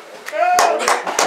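Visitors at the Mystery Spot in St. Ignace, Michigan clap and cheer along in a few sharp, evenly spaced bursts, close and loud, mixed with voices calling out.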